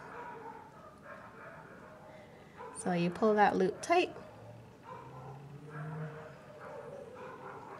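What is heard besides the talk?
neighborhood dogs barking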